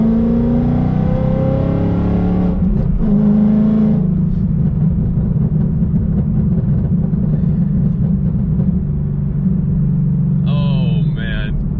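A car engine pulls hard through second, third and fourth gear after a stock shifter swap, its loud droning rise broken by brief dips at each shift, with a short whine near the end.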